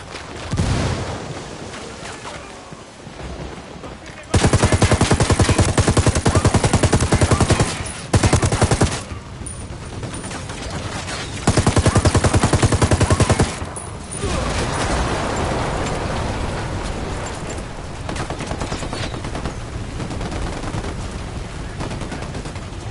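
Heavy automatic gunfire and bursts of shooting in a Ghost Recon Wildlands firefight, with loud sustained volleys alternating with quieter stretches of scattered shots and combat noise throughout.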